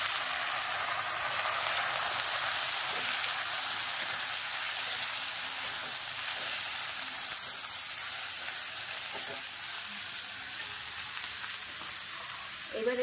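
Taro stolons added to dried fish and onion in a hot pan give a steady, dense sizzle that holds evenly throughout, close and moderately loud, with no talking.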